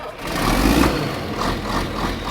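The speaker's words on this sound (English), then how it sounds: "They just don't make tractors like that anymore." A tractor engine runs steadily at idle before a bush hogging job, a continuous low mechanical rumble with a slight swell in the middle and no speech.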